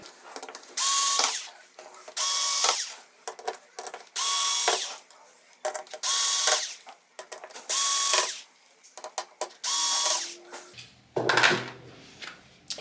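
Power screwdriver backing out screws from a VIZIO M60-C3 TV, six loud whirring bursts of about a second each separated by short pauses, with a final rattle of handling at the end.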